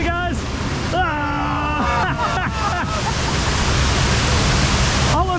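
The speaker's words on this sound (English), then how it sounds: "Look at these waterfalls." A waterfall at Gardaland amusement park rushes as a steady, loud broadband roar, with voices calling out briefly over the water.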